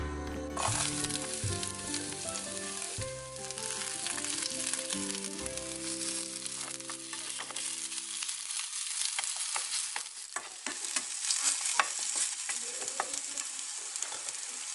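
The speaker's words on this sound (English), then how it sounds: "So the oil is hot now. I'm going to add my onion" Onion hitting hot olive oil in a pan sizzles loudly and steadily, with stirring scrapes and crackles on top; harmonic background tones fade out partway through, leaving the frying alone.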